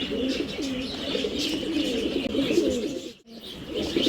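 Pigeons and pet birds at the Mirpur bird market in Dhaka coo and chirp continuously nearby, with a dense, overlapping chorus of murmuring coos and a brief rustle near the end.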